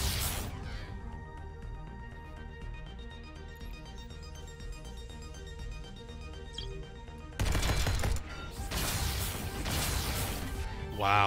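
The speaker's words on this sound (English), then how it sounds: "look at the shots being taken at me" Rapid gunfire bursts and crashing impacts from the mech deck-building roguelike Jupiter Moons: Mecha, layered over steady game music, with a louder, denser volley of shots near the end.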